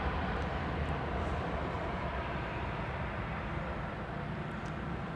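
A Malaysia airliner departs Adelaide Airport bound for Kuala Lumpur, a steady broad jet roar with a heavy low rumble that holds at a constant level throughout, distant and unbroken.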